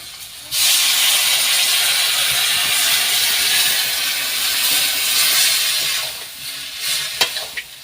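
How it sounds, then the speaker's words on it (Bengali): Water poured into a hot pan of cooking lata sobji bursts into a loud, sustained hiss and sizzle for several seconds, then settles into quieter bubbling with a few clinks of utensils. "আমি এখন জল ঢেলে দেবো।"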